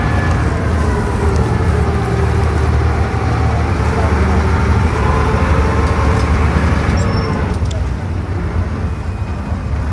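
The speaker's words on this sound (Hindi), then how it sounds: "गीला हो गया टायर, स्लिप मार रहा है" A Sonalika 60 RX tractor working on a harvest field with its tyres wet and slipping gives a loud, steady, close engine drone that hardly changes over the whole stretch.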